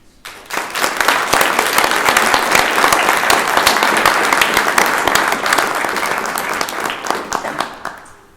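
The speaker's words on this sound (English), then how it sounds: "Please join me in a round of applause for their contributions." A room full of people applauds at a spring graduation reception, the clapping swelling quickly, holding loud and dense, then thinning out toward the end.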